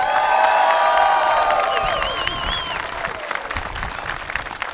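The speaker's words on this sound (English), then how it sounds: "So let's give a warm round of applause to our Deputy Fire Chief, Wolf Kraft, everybody." Outdoor crowd at a community justice walk applauding and cheering for a deputy fire chief, a loud, dense burst of clapping with whistles and shouts that gradually thins out.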